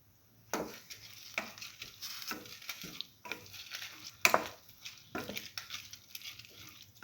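A potato bread stir fry being tossed and stirred in a hot pan with salt, spatula scrapes and clatters recurring in uneven bursts over a soft sizzle, close and fairly quiet.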